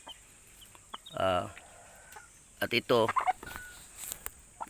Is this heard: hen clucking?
yes